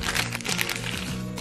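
Plastic film wrapping and a surprise packet from a doll capsule crinkle and crackle up close in a short burst of rustling, with no talking.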